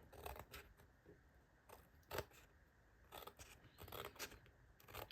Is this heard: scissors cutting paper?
yes